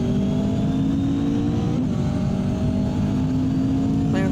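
A McLaren 720S GT3 race car drives at Spa-Francorchamps in a racing video game, heard from onboard. The engine holds a loud, steady high drone for the whole clip, with a brief dip near the middle and no talk over it.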